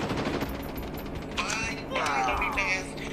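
Automatic gunfire rattles through a first-person shooter match involving a scoped AK, bursts of rapid mechanical shots with clanks and crackles layered over the game's mix, loud and close.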